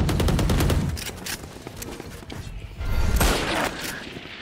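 Gunfire in Valorant, a competitive tactical shooter: loud bursts of rapid automatic shots, dense and close, with a short lull and another heavy burst partway through.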